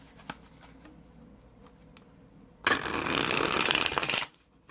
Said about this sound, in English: this is going to overhand shuffle nicely